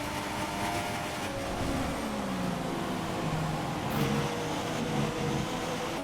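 A Red Bull Formula 1 car in F1 2016, stuck in eighth gear, roars down the straight with a loud, sustained engine drone that rises and shifts in pitch, with no voices over it.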